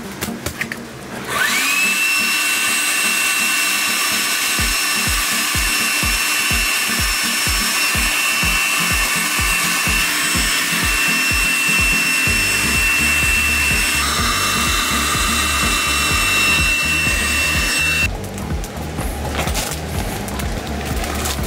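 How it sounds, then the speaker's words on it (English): A vacuum pump drawing the air out of clothes packed into vacuum storage bags: a steady, loud, close motor whine with a rapid pulsing rattle in the first half, then a continuous drone that stops abruptly near the end. "We're just vacuum packing the clothes in these bags."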